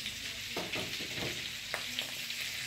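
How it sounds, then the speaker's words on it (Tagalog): Corned beef and egg frying in a pan for a breakfast cooked at home in the Philippines, with a steady close sizzle and occasional stirring scrapes throughout. "Yung huling tatlong prito niya."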